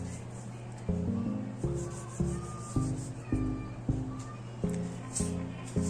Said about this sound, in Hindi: टिश्यू की मदद से इसको गोली को ऊपर आप रब करें जिधर जिधर गंद लगा हुआ है